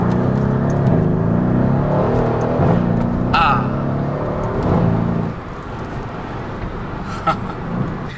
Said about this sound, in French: juste une petite accélération comme ça et entendre le bruit, c'est suffisant pour me satisfaire